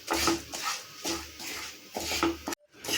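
A spoon scrapes and knocks around a pan as coconut, dal and tamarind are stirred and roasted together, in several rhythmic strokes of clattering metal with a faint sizzle, ending in a brief silence.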